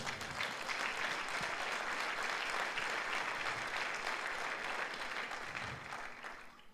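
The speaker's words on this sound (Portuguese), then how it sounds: "Quem recebe, dê um aplauso ao Senhor." A large church congregation claps continuously and steadily, a dense wash of applause that keeps going the whole time and fades only slightly at the end.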